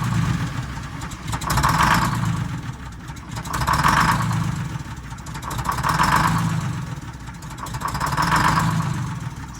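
A bus engine running unevenly, with one side of the engine down on power, idles with a rough mid-pitched drone that swells and fades in a slow, steady cycle about every two seconds, close and continuous with no talk.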